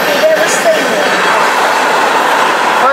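An empty BNSF freight train rumbles past close by with a loud, steady roar of rolling wheels and occasional faint squeals of metal, and a voice talks faintly beneath it.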